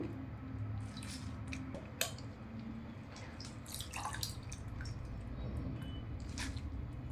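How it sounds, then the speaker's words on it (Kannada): Chopped banana flower soaked in buttermilk and water being squeezed by hand, with soft wet squishes and drips close by and quiet background noise, no talking. "ನೀರು ಹಿಂಡಿನೇ ತಗೋರಿ"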